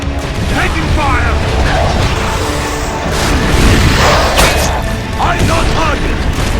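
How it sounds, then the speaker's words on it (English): Gunfire in Gears of War: Judgment at Halvo Bay Military Academy forms a dense, unbroken wall of battle noise, with mechanical clatter and booms under shouted voices. "Taking fire!"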